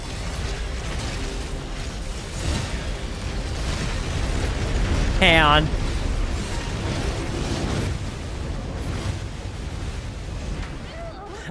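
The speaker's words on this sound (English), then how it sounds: "Okay, so selective explosions." Deep rumbling explosions and bursts from the action video game AI Limit build to a loud peak midway and are joined by a sweeping tonal whine. Someone briefly speaks over the game audio.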